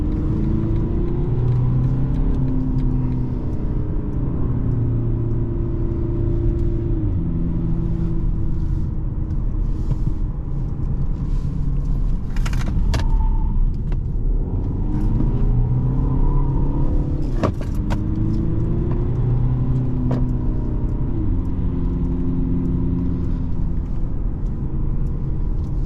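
A car cruises along a country road through the Swabian Alb in autumn, its engine a steady low drone under wind and road rumble, with a brief rise in engine pitch during an overtake partway through.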